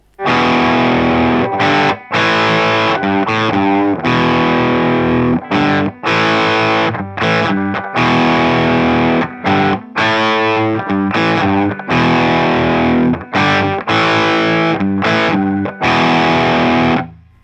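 A heavily distorted electric guitar plays a chunky, rhythmic riff of loud chords, with brief choppy gaps between phrases and no voices.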